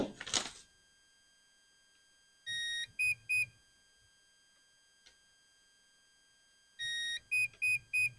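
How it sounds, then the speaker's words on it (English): Two identical sets of electronic beeps from a Seaking 40 amp electronic speed controller signalling its timing setting, each a long tone followed by three short ones, separated by silence; a brief rustle opens the sequence. "it's going to give again a series of beeps to show the timing"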